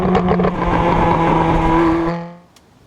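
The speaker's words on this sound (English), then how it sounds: "It's a Ferrari 456, it's a V12 engine. Let me pull it out" A 22-year-old mid-90s Ferrari 456 with a V12 engine rumbles loudly and steadily as it pulls out, its engine tone holding for about two seconds before fading away fast, leaving near silence.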